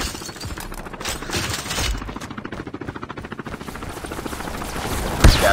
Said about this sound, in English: Friendly deployed chopper gunner.